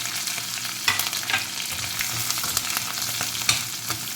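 Onions, curry leaves and dried red chilies shallow frying in oil in a pan, with a steady close sizzle and crackle broken by occasional stirring scrapes, no voices.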